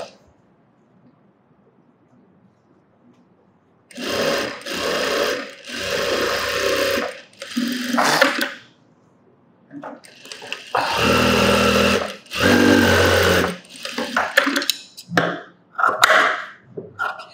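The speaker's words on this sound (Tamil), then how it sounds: "அதை கனெக்ட் பண்ணி தையல் போடுவோம்." A sewing machine stitches fabric during tailoring work, running in several close, steady whirring bursts of a few seconds each, with brief quiet pauses between runs.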